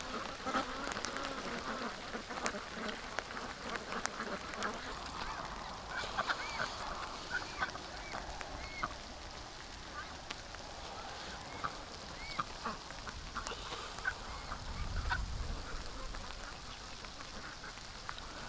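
Ducks quack and honk intermittently in falling rain, the calls scattered and moderately distant over a constant rain hiss, quiet overall.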